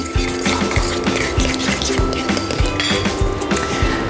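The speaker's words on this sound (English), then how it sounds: "Whisk this all together." A whisk clinks briskly against a bowl while egg, cream and grated Parmesan are beaten together, a steady fast metallic rattle, close and loud, with a faint voice underneath.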